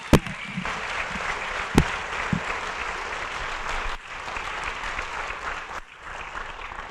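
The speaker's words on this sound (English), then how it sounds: "Round of applause for Mike Hopkins" Audience applause fills a school press conference hall as a crowd claps steadily for an astronaut about to launch to the International Space Station, a dense, sustained patter of hands with a few sharper nearby claps.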